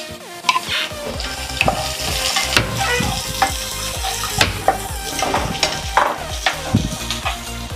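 Thinly sliced onions frying and being stirred in a pan for ridge gourd chutney, a steady close sizzle with repeated scraping stirs and light utensil knocks throughout.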